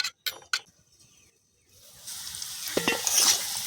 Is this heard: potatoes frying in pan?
yes